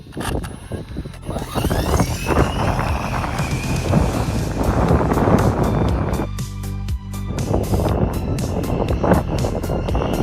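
A Jiusi PT14R budget RC truck on a 26T pinion runs at full throttle, its motor whine rising and falling loudly over wind buffeting, with fast tonal sweeps as it speeds past.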